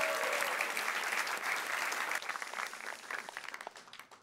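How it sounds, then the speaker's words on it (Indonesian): Stand-up comedy audience applauding as a comedian named Jui comes on stage, a full, sustained wash of clapping that thins toward the end into scattered individual claps. "beri tepuk tangan untuk Jui Purwoto"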